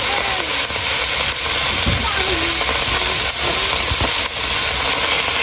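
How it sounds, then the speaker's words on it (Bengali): Leafy greens, organic and freshly picked, hit hot oil with chili and garlic in a Hatiya village kitchen, giving a loud, steady sizzling hiss that fills the whole stretch with brief low knocks. "তেলগুলো হয়ে আসছে, এখন শাকগুলো দিয়ে দিতেছি।"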